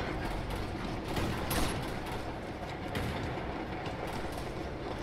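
A train in the video game Uncharted 2: Among Thieves gives a steady rumbling, clattering roll with mechanical rattles and a brief metallic squeal, continuous and fairly close, with no talking.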